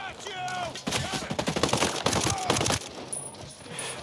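AK-47 rifle gunfire in Ghost Recon Breakpoint, rapid bursts of loud, close shots in a dense rhythmic run lasting a couple of seconds, with a few faint tonal game sounds around it.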